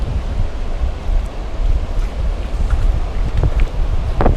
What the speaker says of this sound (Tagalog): Grabe oh, lakas ng alon oh.